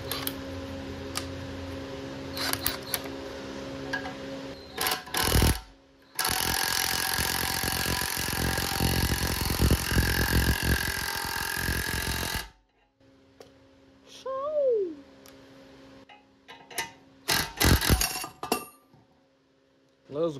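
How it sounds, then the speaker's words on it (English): An impact wrench presses a ball joint into the control arm of a 1996-2000 Honda Civic, hammering loudly for about six seconds among scattered clinks and metallic knocks in a garage. "as soon as you see me start pressing in with the impact, you'll see this thing, hopefully, it gets driven in"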